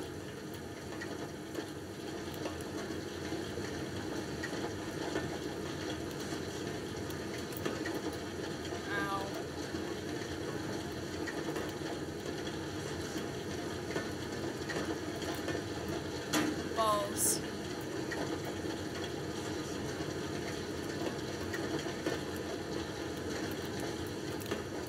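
A steam-powered motor in the video game Penumbra: Overture runs with a steady mechanical hum and whir, broken by a couple of brief metallic clicks, heard faintly over the whole stretch.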